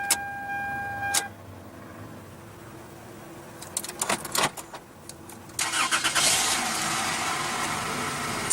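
A 1998 Toyota Corolla with a 1.8 L four-cylinder engine cranks briefly and starts, then settles into a steady idle, heard close with a door chime before.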